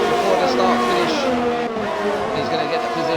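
McLaren race car in a racing video game, engine screaming loud and close with shifting pitch and some tire squeal, sustained throughout.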